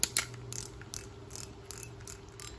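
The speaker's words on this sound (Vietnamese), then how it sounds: "đây là tiếng lưỡi gà của máy, thì mọi người có thể xoay qua xoay lại đều được" Ratchet click mechanism of a Japanese fishing reel, either a Daiwa or Ryobi, ticking in quick uneven bursts as the spool is turned back and forth, close and fairly quiet.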